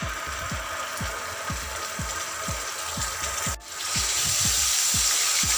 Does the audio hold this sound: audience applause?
no